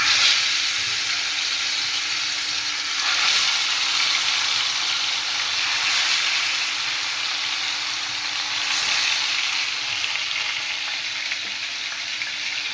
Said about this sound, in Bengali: আমি ফ্রাই প্যানে তেল গরম করে নিছি এখন মাছগুলো ফ্রাই করব